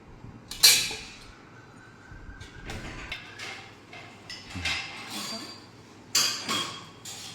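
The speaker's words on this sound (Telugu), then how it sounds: "దీన్ని బాగా శుభ్రంగా అన్నీ బాగా మిక్స్ అయ్యేటట్టు కలుపుకోవాలి" A spoon clinks and scrapes against a bowl while raw mango pickle (pachi maagaya) is stirred together: a sharp clink near the start, then scattered scraping strokes and another cluster of clinks toward the end.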